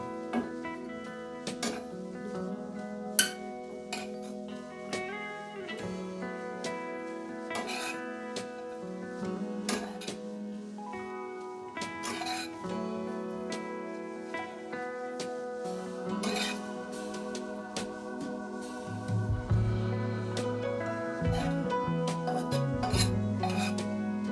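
A utensil scraping sweet jorda semai vermicelli out of a pan into a bowl, with repeated soft rasping strokes and occasional clinks of metal, fairly faint and close, with no talking.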